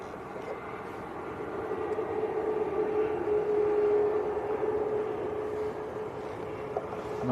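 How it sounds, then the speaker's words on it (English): A Boeing 747 jet airliner passes overhead at Manchester Airport, a steady low roar that swells to a peak midway and slowly fades, heard from the ground at a distance. "that 747 just going straight over the top of us at the moment"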